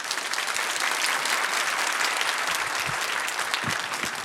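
Steady audience applause fills a church hall during a Christian workers' conference, a dense continuous clapping from a large congregation welcoming a pastor, with no talking over it.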